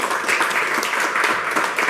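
An audience claps steadily at a public forum in Jakarta, with a brief, even and fairly loud burst of applause and no talking over it.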